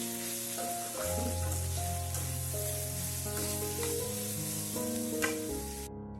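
Bitter gourd (uste bhaji) sizzles steadily as it fries in a pan, a close, continuous crackle with a soft musical tone playing underneath and no talking.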